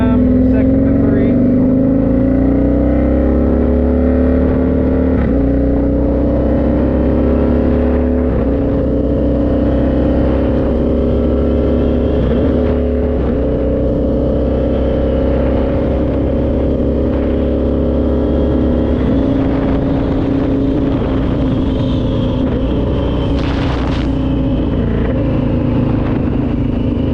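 An Indian FTR1200 motorcycle accelerates along a street, its engine rising in pitch through several quick gear changes with brief dips between them, loud and close, while a rider talks over it.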